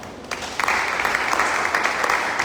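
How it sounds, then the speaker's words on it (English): Steady applause from a conference audience welcoming the Central Chief Imam at a Christian Council of Ghana regional leadership gathering, building quickly after a quieter start into dense, sustained clapping. "Shall we give him a clap?"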